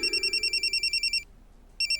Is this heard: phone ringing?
yes